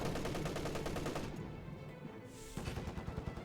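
A DShK heavy machine gun fires at an MG34 in the Company of Heroes 2 video game: rapid, loud rattling bursts that briefly ease off before the firing picks up again.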